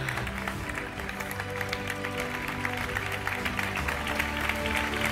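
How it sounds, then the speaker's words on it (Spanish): A crowd at the Movistar Team 2023 cycling team presentation applauding, with steady dense clapping from many hands under a tonal musical backdrop. "Fuerte aplauso para él"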